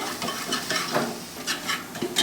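Bottle gourd being stirred with black pepper and coriander powder, a soft scraping and shuffling of a spoon through the vegetables in a pot, with several brief brighter scrapes spaced through and no talking.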